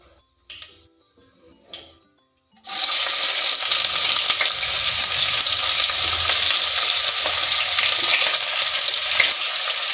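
Chopped onions and green chilies hit hot oil in a pan for chicken biryani and sizzle loudly, a steady frying hiss that runs unbroken after a few quiet clinks at the start.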